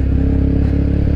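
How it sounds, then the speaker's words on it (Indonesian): A Yamaha WR155 supermoto fitted with a free-flow racing exhaust idles with a loud, steady, throbbing burble, close and continuous with no talk. "ya suaranya jadi lebih berisik dibandingkan knalpot standar."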